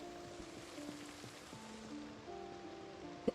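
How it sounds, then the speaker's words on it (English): Rain falls steadily in a Knox County zombie survival video game, a soft, even patter at low level, with a faint game tone running beneath it and a small click at the end. "Of course, it's going to start raining now."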